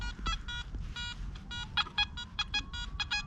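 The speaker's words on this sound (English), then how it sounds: "I just want you guys to hear the signal with the settings I've set up" Nokta Makro Anfibio Multi metal detector sweeping over a bottle cap in heavy trash, giving choppy, jumpy multi-tone beeps in quick irregular bursts, fairly faint over low rumble.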